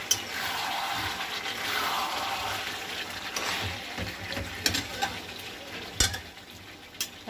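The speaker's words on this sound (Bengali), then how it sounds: "এই যে এখানে চিকেন কষানো হচ্ছে" Chicken braising and being stirred in a home kitchen pan gives a steady broadband sizzle, with scattered scrapes and clinks of the utensil growing sharper toward the end; no one talks.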